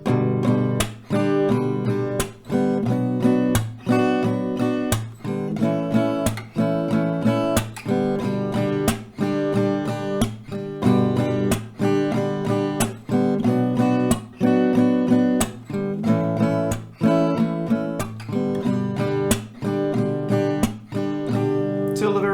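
Acoustic guitar strumming through KHEA's "Con Un Beso", two rounds per chord, a steady rhythmic pattern of sharp downstrokes and ringing chords played close and continuously, with no talking.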